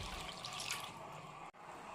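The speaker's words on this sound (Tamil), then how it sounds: "இதில் மிக்ஸி கழுவுன தண்ணி மட்டும்தான் நான் இதில் ஊற்ற போகிறேன்." Rinse water from a mixer jar pours steadily into a pan of homemade paneer masala gravy, a continuous close splashing trickle with a brief break near the end.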